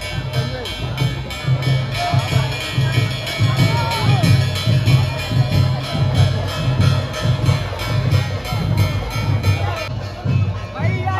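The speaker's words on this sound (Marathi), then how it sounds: "गर्दी बघा, इथली गर्दी आहे." A dense, loud crowd at the Bahiridev yatra, a temple fair where the deity's palkhi procession passes, fills the air with steady babble and a rhythmic low thumping that runs underneath the whole time.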